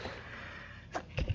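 A person sneezes: a faint, quick burst and then a second, stronger breathy one, close by over a low steady background hum.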